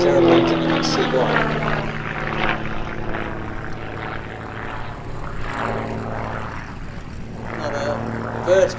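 A Gamebird GB1 aerobatic propeller plane's engine drones steadily at a distance at an airshow, its pitch shifting as it performs a torque roll and vertical maneuvers, while someone talks over it.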